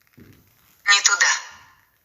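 A ghost box app plays through a phone speaker: a faint low rustle, then a sudden loud burst of garbled, warbling tone that holds for about a second and fades.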